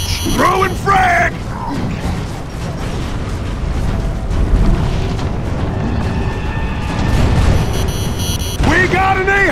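Frag grenade blast in the video game Gears of War 3, a heavy boom inside continuous loud battle noise, with shouting voices at the start and end.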